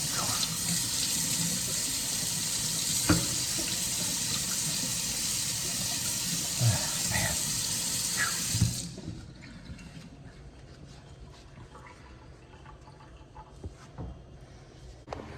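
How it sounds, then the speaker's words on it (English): Water runs steadily from a tap during household cleaning, a loud broadband rush for about nine seconds, then it stops and only faint handling clatter and quiet room sounds remain. "Get a little bit of water, splash it around here."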